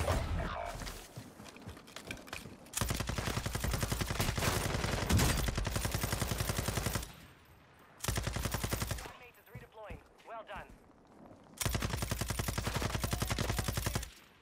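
Bursts of rapid automatic gunfire from a Call of Duty match on the Ashika Island map, loud and close, in several long volleys separated by short pauses with mechanical clatter between them.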